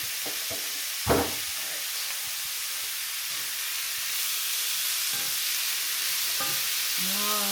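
Shrimp sizzle steadily in a hot pan, a soft continuous frying hiss with a brief clatter near the start and faint stirring sounds later.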